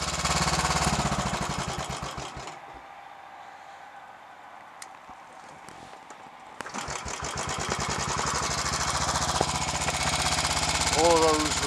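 A Royal Enfield 500 Electra X motorcycle engine thumps loudly and steadily, fades to a quiet pause, then starts again and runs fast on its own with no throttle, close to the microphone.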